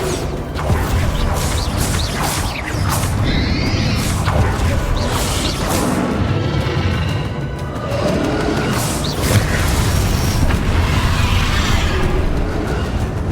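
Hogwarts Legacy combat with spells being cast, including a Bombarda blasting explosion, heard as dense, loud, continuous action with whooshes, crashes and booms layered throughout.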